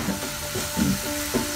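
Vegetables sautéing in a pan, a continuous close sizzle with a few soft scraping stirs, no voices.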